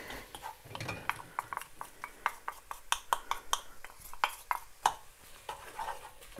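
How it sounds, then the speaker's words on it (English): Onions being stirred in a pot for a base curry sauce, heard as a run of sharp metallic clinks and scrapes of a utensil against the pot, irregular and close, with some soft background noise and no talk. "Onions are doing well, so we just give that a little stir."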